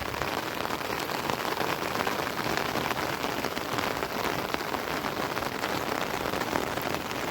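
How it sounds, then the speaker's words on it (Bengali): Heavy rain falls steadily over homes in a riverside char area, making a dense, even patter on surfaces that is close and constant throughout, with no voices. "কারণ বৃষ্টি পড়ছে"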